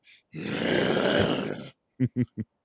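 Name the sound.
voice imitating a growling bear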